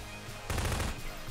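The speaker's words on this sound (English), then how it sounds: "Stop shooting randomly, goddammit." A half-second volley of rapid automatic shots bursts out suddenly in Garry's Mod Prop Hunt, loud and close against a low game backdrop, then falls away to quiet.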